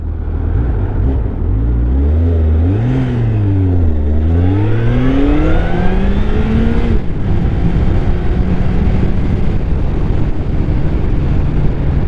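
Busy morning road traffic rumbles loudly and continuously, with a nearby vehicle engine rising and falling in pitch as it accelerates and passes, then a steady wash of traffic noise.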